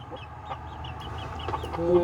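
Chickens cluck in a coop at an old house being cleaned out, with short repeated clucks and calls close by over a steady low background rumble.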